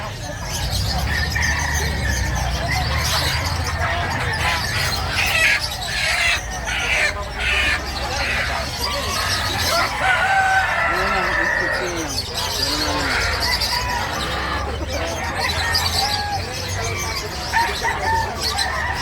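Chickens cluck and squawk intermittently at a busy Friday poultry market in Bucawe, with close, overlapping voices of buyers and sellers talking throughout.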